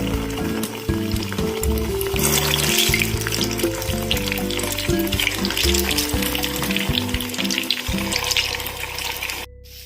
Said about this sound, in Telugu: ఆయిల్ వేడెక్కిన తర్వాత రోల్ చేసుకున్న స్లైసెస్ని ఒకటొకటిగా ఆయిల్లోకి వేసుకోవాలి.